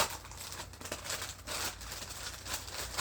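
Plastic bag mailer crinkling steadily up close as it is handled and opened, a continuous rustle with no voices.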